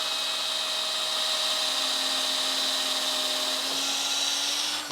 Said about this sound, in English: Pre-drill, the hole that you pre-drilled earlier, but just make sure you go through your spindle now.